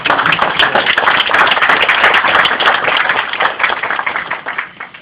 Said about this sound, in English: So I want to give Charlie a round of applause and his church.